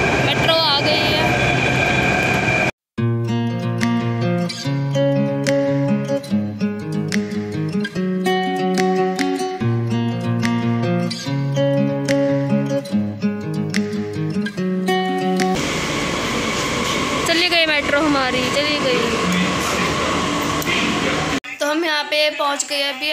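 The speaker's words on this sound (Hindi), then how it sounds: "मेट्रो आ गई है।" A metro train pulls into a station, its broad rumbling rail noise and screeching, musical tones of braking filling the whole stretch loudly and continuously, with a short break early on and a shift in character near the end.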